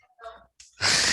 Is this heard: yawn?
yes